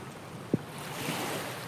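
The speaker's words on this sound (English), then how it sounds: "you can hear like heavy waves, strong wave sound." Heavy beach waves in an Unreal Engine 5 game ambience with Wwise make a steady surging roar, with a brief soft knock early on.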